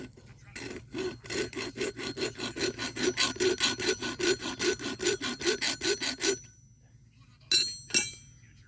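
A metal push-and-pull file worked against the edge of a homemade forged blade on an anvil corner to cut a nick, giving steady rhythmic rasping strokes at close range for about six seconds, then a pause and two more short strokes.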